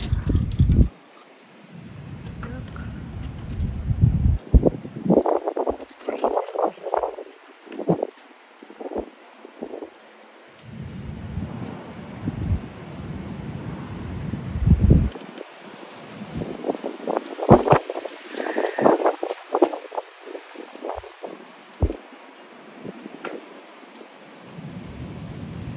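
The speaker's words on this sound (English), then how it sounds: "I wanna show in the video how windy it is" Strong gusts of wind roar outdoors on a very windy day, buffeting the microphone in loud rumbling surges that rise and fall over about twenty-five seconds, with no talking.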